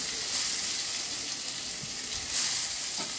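Garlic frying in hot oil while being stirred, a dense, steady sizzle with soft scraping stir sounds, close and fairly loud, swelling slightly as it is moved around.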